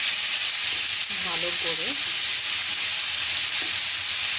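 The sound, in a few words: frying ginger and garlic paste in olive oil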